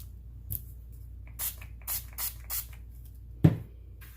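A handful of short, hissing sprays from a fabric spray bottle, spaced irregularly, close up, with a soft knock near the end.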